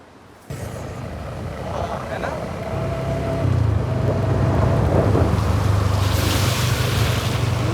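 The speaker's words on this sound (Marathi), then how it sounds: "हा पूर्ण जो पाणी येतो धबधब्याचं पाणी इकडे इथपर्यंत येतो" Water from the Dhodani waterfall in the Konkan rushes in a constant broad roar that swells and stays loud throughout, with a person talking over it.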